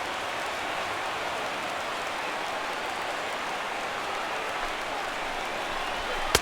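A large stadium crowd in MLB 16: The Show roars continuously at a San Francisco ballpark, producing a dense, even wash of cheering that holds steady throughout, with a sharp pop at the very end.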